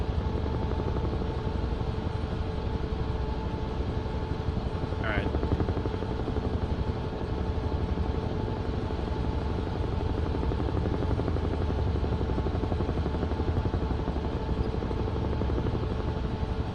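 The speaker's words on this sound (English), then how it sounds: "So take some collective out here, right? Level off the helo." A helicopter in Microsoft Flight Simulator 2024, a continuous steady rotor thrum and engine hum held at even loudness throughout, with a brief faint chirp partway through.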